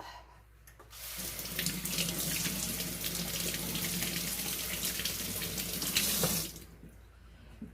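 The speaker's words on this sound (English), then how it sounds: "Okay, rinse this out." Potatoes rinsed in a kitchen sink under a running faucet make a steady, fairly close gush of water that starts after a second, runs for about five seconds and then cuts off.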